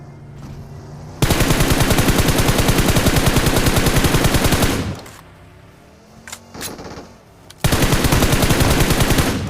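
Rapid automatic gunfire in a PUBG Mobile battle royale match on the Miramar map during a close-range fight, with shotgun blasts mixed in: two long loud sustained bursts separated by a quieter gap holding a few scattered shots.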